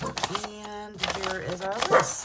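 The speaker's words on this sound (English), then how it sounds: "I apologize for my barking dog." A pet dog barks and yelps indoors, close by, the sounds overlapping a person speaking.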